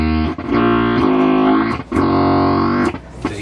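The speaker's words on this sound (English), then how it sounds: "You can hear like the low end reverb, you know, reverberating." Deep, distorted bass notes from a Chunk Systems WAR Band pedal swell and sustain with a reverberant low-end wash, each note fading into the next, played loud and close.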